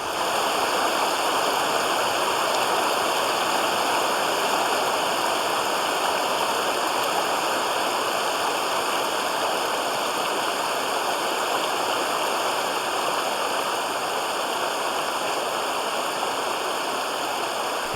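A rushing mountain torrent in the Amazon forest pours in a constant, dense roar of water, steady and unbroken throughout with no voices.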